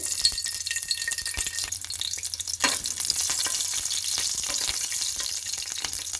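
Green chillies dropped into hot oil for a spicy mutton curry, crackling and sizzling continuously, with a brief clink of a utensil and a burst of louder spitting midway.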